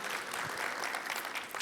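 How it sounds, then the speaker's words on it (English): A comedy club audience applauds a guest with a short burst of mid-level clapping that stays steady and continuous and ends with a few louder claps. "give him a round of applause"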